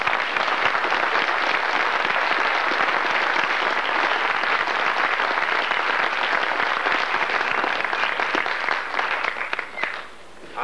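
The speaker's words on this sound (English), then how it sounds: "I think they all deserve a round of applause." Sustained audience applause at a 1995 high school football banquet honoring the junior varsity team: dense, steady clapping from a large crowd that holds for about ten seconds before thinning out near the end.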